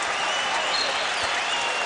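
A college basketball arena crowd roars and applauds in a sustained, dense wash of cheering and clapping during a late-game timeout, loud and continuous throughout.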